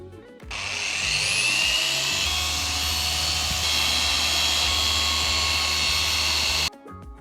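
A machine polisher working compound into a rear spoiler on a Mazda MX-5 Miata ND2 30th anniversary: a loud, steady motorised whine with low hum runs continuously for several seconds, starting and stopping abruptly.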